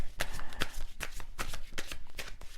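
A deck of tarot cards is shuffled close by in a quick, regular riffling rhythm of soft papery flutters and slaps.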